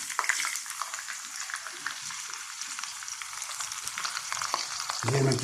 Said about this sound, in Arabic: وهبدأ اقلب، والبصل شغال